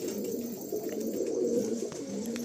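Pigeons in a loft coo steadily in low, rolling phrases, several birds overlapping close by with no talk.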